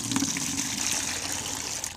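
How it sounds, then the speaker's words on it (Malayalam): Water pours steadily from a can into a bucket while mixing a plant fertilizer, a full gushing splash that runs without pause, close and fairly loud. "ഈ ഒരു പാട്ട വെള്ളം ഇതിലേക്ക് ഒഴിക്കുക."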